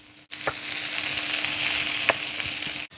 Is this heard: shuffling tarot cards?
no